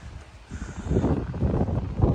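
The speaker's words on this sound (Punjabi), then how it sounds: "ਬਹੁਤ ਜਾਂ ਹਵਾ ਚੱਲ ਰਹੀ ਹੈ ਇੱਥੇ" Strong wind in Italy buffets the microphone in a low, gusty rumble that swells and stays loud, with no voices.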